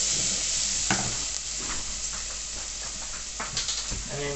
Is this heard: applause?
no